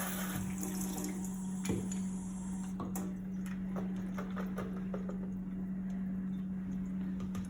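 Fresh garden lemons are washed under a running faucet, with a steady close stream of water splashing into a sink and occasional light knocks of fruit and hands. A constant low hum sits underneath.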